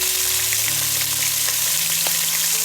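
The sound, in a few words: pork ribs frying in hot oil in a wok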